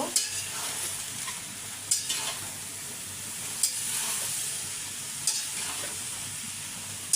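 Taro and potatoes are stir-fried in a pan for a shing fish curry, a soft continuous sizzle with a spatula scraping and knocking at intervals of a second or two, quiet and close, no talking.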